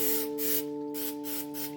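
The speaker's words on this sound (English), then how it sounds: "today I'm just using olive oil spray" Olive oil cooking spray hisses into a baking pan in several short bursts of varying length, close by, with faint background hum and no talk.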